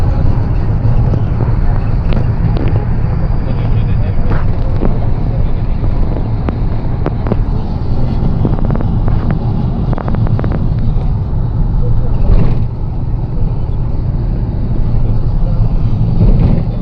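Steady traffic on a busy road carries buses, cars and big trucks with trailers. It forms a constant low rumble with wind buffeting the microphone throughout and no clear pauses.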